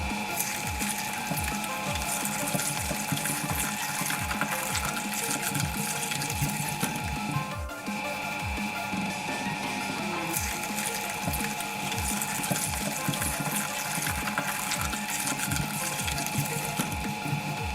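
A shredder grinds up sponges with a steady, rhythmic clicking and ratcheting churn of gears and blades, with a wet, watery wash running underneath throughout, continuous and close.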